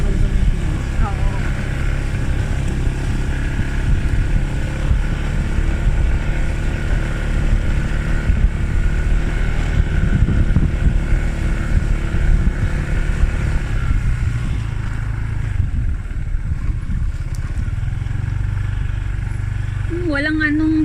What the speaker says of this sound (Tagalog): Lakas din ng motor mo, ha?